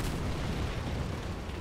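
Dense, continuous rumbling booms of artillery shells exploding in the tank game War Thunder, heavy low-end thunder without pause and no talking over it.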